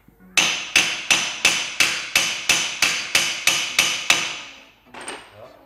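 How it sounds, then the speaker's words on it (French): A hammer strikes the brake disc on a Peugeot 107 eleven times in an even, quick rhythm, each metallic clank ringing briefly, followed by a softer final knock. "Un marteau. Déjà on va taper un peu dessus pour décoller."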